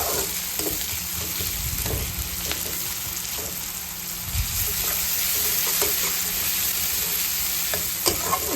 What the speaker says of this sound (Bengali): এরপর নাড়াচাড়া করে কালার চেঞ্জ করে নিতে হবে।